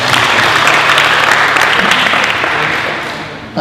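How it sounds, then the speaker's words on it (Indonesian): Applause from an audience at a business talk with an entrepreneur, a steady dense clapping that fills the whole stretch and stays loud throughout, with crowd murmur beneath, before tapering slightly near the end. "Tepuk tangan dulu untuk penanya"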